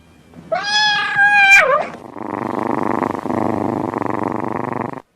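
A cat gives one drawn-out meow, then settles into a steady, close purr that continues for several seconds.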